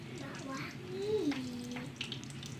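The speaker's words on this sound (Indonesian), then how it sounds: "Kita tumis nih tadi bawang putih" Garlic, shallots and spring onion sauté in hot oil with a soft, steady sizzle, faint and close, while a voice talks over it.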